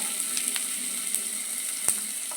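Ginger pieces sizzle in hot oil in a pan for a tomato curry, a close, steady crackle with small pops and an occasional sharp utensil clink, no talking.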